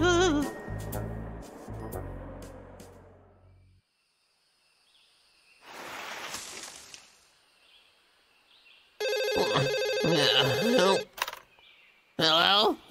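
A cartoon telephone ringing in bursts, bright electronic trills that stop and start again, mixed with voices, music and other cartoon effects.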